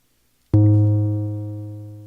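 A single bass guitar note played through a Donner Dark Mouse distortion pedal, striking suddenly after a short silence and then ringing out with a rich, buzzy sustain that slowly fades.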